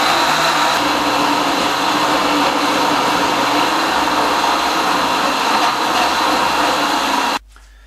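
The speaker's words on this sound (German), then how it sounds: "Den Mixer könnt ihr ruhig mal ordentlich rattern lassen" A blender whirs loudly and steadily for several seconds blending tomato soup, then cuts off abruptly.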